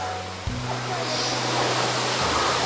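Steady rushing wash of a waterfall along the road between Itanagar and Bhalukpong in North East India, a broad even roar with a low droning hum joining partway through.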